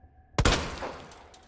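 One sharp pistol shot cracks in Resident Evil 2 Remake, a sudden loud report with a short echoing tail fading over a second in a quiet server room.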